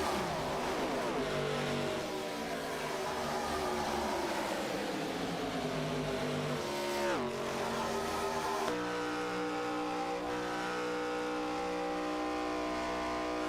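Four ARCA race cars running nose to tail at Daytona in a racing video game roar steadily with rising and falling engine pitch, a loud continuous drone with shifts and a sharp change partway through, no talking.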